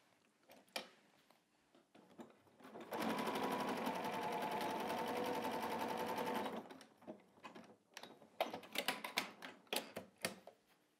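A sewing machine running a large zigzag stitch to close a seam on a skirt, one steady whirring burst of about four seconds between quieter handling clicks and rustles.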